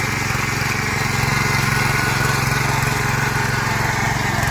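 A farm machine engine runs in a hillside field in Kumaon, Uttarakhand, giving a loud, steady, droning putter with a fast regular pulse, close by and unbroken, with no voices over it.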